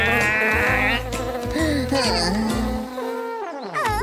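Angry cartoon bees buzz in a steady, droning swarm that fills the clip, layered with bright, warbling music and playful voice-like tones.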